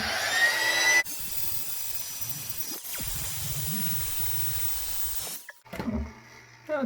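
An electric trimmer cuts facial hair from a neckbeard, a steady close buzzing hum running for several seconds with a brief break before it trails off, ending in some handling clatter.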